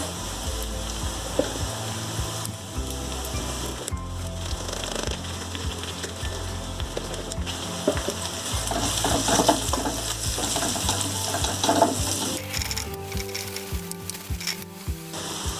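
Curry leaves sizzling in hot oil in a pan for a coconut chicken curry, a steady, moderately loud frying crackle that holds throughout with some stirring scrapes near the end.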